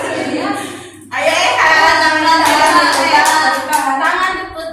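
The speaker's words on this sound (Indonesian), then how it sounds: "tepuk tangan" Hands clapping together in a group counseling session, first a brief quieter patch of talk, then a burst of sustained clapping from several people with voices mixed in.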